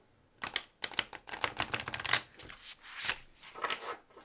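An oracle deck of Bloodlands cards is shuffled overhand in a quick series of crisp, close riffling bursts, separated by brief pauses, with no talking.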